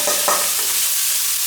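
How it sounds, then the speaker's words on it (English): Onions and chilies hitting garlic in hot olive oil, a loud, dense, close-up sizzle with a couple of stirring scrapes over a short burst, no voices. "And she's gonna add in the onions with the chilies."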